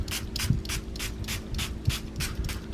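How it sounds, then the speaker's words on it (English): A spray bottle mists water onto watercolor paper in about eight quick, evenly spaced hissing puffs, close and moderately loud, with faint handling noises in between. "For the paper, I'm going to spray here."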